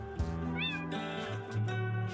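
A cat gives a short, fairly close meow, a single rising cry heard alone over quiet background.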